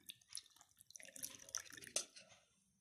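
Water added little by little to amla powder for a hair pack, making faint, close drips and soft splashes scattered through a quiet background.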